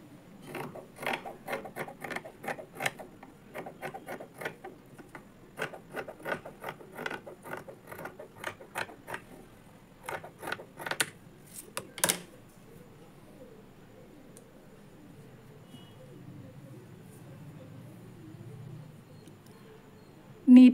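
Sewing machine stitching the lining of a blouse, a run of rapid mechanical clicks and whirring bursts for about twelve seconds, then quiet with faint background noise.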